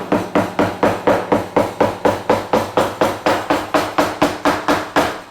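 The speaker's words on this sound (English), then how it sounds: "And then you just take and walk your hammer" Hammer taps striking staples in a steady rhythm of about twenty evenly spaced close, sharp blows, fastening cloth along a pool table rail.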